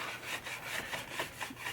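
A drill-driven pad polishing a 1967 Williams Blast Off pinball playfield with Novus 2 plastic polish, giving a rapid, raspy back-and-forth rubbing that pulses in quick strokes, close and fairly loud, with no talking.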